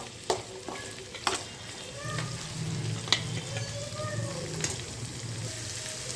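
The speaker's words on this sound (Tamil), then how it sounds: "இப்போ கொஞ்சம் நேரம் வெங்காயம் வதங்கட்டும் நல்லா" Onions frying in a pan for Kerala-style sardine curry, a soft continuous sizzle broken by a few sharp spatula knocks and stirring scrapes, close by, with faint background hum.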